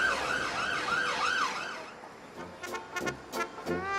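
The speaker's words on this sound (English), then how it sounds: "I can hear the siren. Police is coming." Police siren on a London street, a loud wailing tone rising and falling in repeated sweeps for about two seconds before cutting off, leaving street noise with several short clattering knocks.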